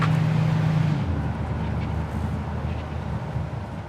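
A 1962 Chevrolet Impala engine idles with a deep, steady rumble and a low hum that drops slightly after a second, running close and continuous.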